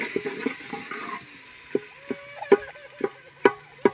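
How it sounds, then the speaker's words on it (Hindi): Boiled potatoes are stirred into cooking masala in a pan, with a soft wet sizzle under a series of sharp spoon scrapes and taps against the pan, coming irregularly and louder toward the end. "अभी इसमें डाल रहे हैं हम आलू, उबला हुआ आलू है।"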